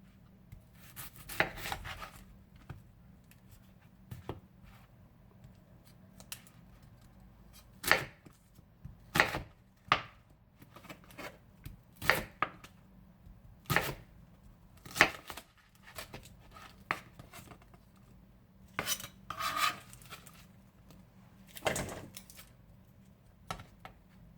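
A knife chops onions for onion vinegar on a cutting board, giving irregular, crisp, close taps spread unevenly over a long stretch with short quiet gaps between strokes.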